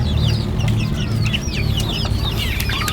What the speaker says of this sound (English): So these are the chicks that were laid.